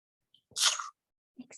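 A single sharp human sneeze, close and loud, with a quick breath before it and a brief murmur after.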